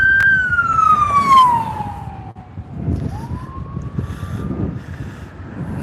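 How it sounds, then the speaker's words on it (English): Emergency vehicle siren wails along an urban street near an industrial park and rail tracks, its falling then rising tone sweeping over steady traffic rumble, moderately loud and passing by. "It's awfully rude of them to be blaring their horns while I'm live streaming."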